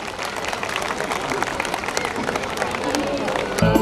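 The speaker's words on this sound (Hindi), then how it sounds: "जोरदार तालियों से स्वागत कीजिए इन बच्चों का" Loud, dense audience applause at a school annual function, welcoming a children's dance, steady and full throughout with crowd murmur mixed in.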